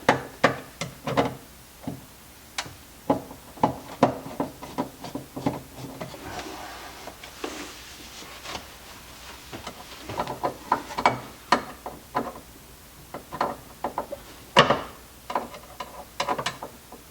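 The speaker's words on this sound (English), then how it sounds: "let me get my screwdriver here." Screwdriver and ratcheting driver loosening screws on an old kitchen island, a quick series of close, sharp clicks and knocks in uneven bursts, with small tool movements between them.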